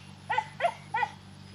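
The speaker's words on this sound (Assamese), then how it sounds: "মোৰ এটা অকণমানি পোৱালি কুকুৰ আছে সি চিঞৰি আছে" A small puppy cries nearby with three short, high whimpering yelps, evenly spaced, over a quiet, low background hum.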